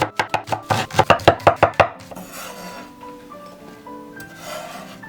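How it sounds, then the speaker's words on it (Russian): A knife chops green onion on a board, starting with about a dozen sharp, rapid, close cuts in a quick rhythm, then shifting to softer scraping and sliding sounds; no talking. "Если у вас зеленый лук слишком крупный, вот так его делим пополам и нарезаем"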